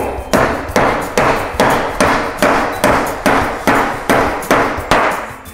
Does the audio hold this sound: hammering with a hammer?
yes